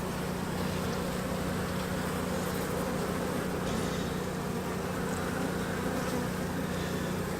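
Honeybees in an opened beehive during a spring hive inspection, a dense, steady droning hum of many bees close by, continuous and even with no voices.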